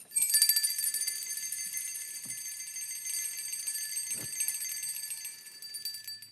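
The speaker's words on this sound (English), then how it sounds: "please join me in ringing a bell as we acknowledge the importance of this founding document of our nation" Bells rung in celebration at a city council meeting honoring a founding document of the nation, a sustained bright metallic ringing of many small bells at once, steady and fairly loud throughout with no voices.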